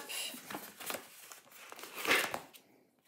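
Paper being folded and creased by hand for a scrapbook album, heard as quiet, close rustles and crinkles in short bursts, with one firmer crease near the end before it falls silent.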